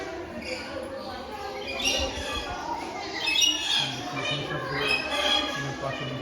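Zoo birds squawk in short, harsh repeated calls that rise over a busy background murmur, with bursts that come and go across the few seconds.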